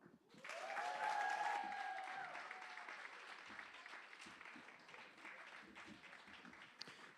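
Audience applause welcoming a comedian to the stage at a live comedy night in a pub venue, a full burst of clapping that swells quickly, then gradually thins and tapers while continuing to the end.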